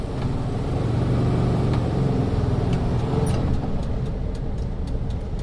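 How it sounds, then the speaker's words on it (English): A baby blue 46-year-old Volkswagen T2 van drives around Camden, its engine a steady loud rumbling drone from inside that eases off near the end with a few light clicks. "it's a baby blue Volkswagen T2 that's 46 years old driving around Camden"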